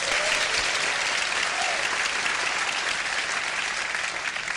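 A talk show studio audience bursts into sustained applause, a dense, loud wash of clapping that fills the clip evenly and fades only slightly at the end.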